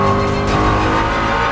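A loud Ford Mustang GTD race car engine roars past close by, its pitch shifting as it speeds through, dense and continuous for the whole moment.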